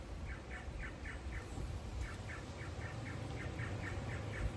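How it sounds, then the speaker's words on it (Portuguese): Outdoor birds give a faint, steady run of short repeated chirps in an even rhythm over a broad background hiss of wind through trees. "Ouve aí esse barulho dos pássaros, esse canto, né, dos pássaros"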